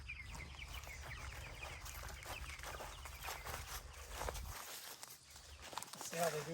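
Chickens in a chicken tractor cluck and murmur softly at close range, mixed with footsteps and rustling.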